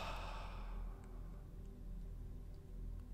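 A loud audible exhale during a guided breathing meditation, a breathy sigh in the first second that then fades into quiet room tone, close and alone.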